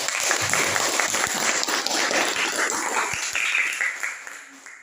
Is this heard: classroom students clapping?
yes